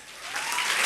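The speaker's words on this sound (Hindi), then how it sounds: "इस बिजनेस के लिए एक बहुत जोरदार ताली हो जाए।" Applause from an audience at a business success talk, a swelling wash of clapping that grows louder over under a second, with no speech.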